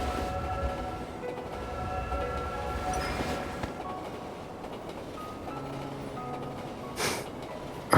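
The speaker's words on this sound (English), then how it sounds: "Hold on tight. The train is about to leave." A train in the game Love and DeepSpace pulls away with a steady rumbling roll and tonal whistle-like hums, closing with a short hiss or burst near the end.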